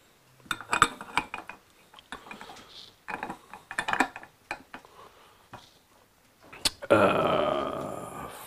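Screws go into a Suzuki GS1000 carburetor float bowl, giving scattered small metallic clicks, taps and brief scraping up close, ending in a louder burst of rattling handling noise.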